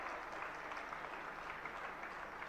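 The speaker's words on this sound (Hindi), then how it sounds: "जरा तालियों के साथ अनुमोदना" An audience at a Jain religious sermon applauds steadily throughout, a dense even patter of many hands at moderate distance, without voices.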